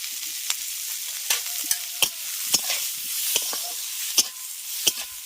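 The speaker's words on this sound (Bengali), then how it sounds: "এবার পেঁয়াজগুলোকে আগে হালকা একটু ভেজে নেব" Onions sizzle lightly in a pan with a pinch of salt, a steady soft hiss broken by sharp stirring clicks and scrapes roughly every half second.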